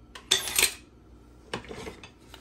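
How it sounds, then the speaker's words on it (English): A spoon stirs milk in a pot, making a couple of brief metallic clinks and scrapes against the pot. The sounds are close, separated by quiet gaps, with no talking. "I'm just stirring so that the bottom doesn't scorch"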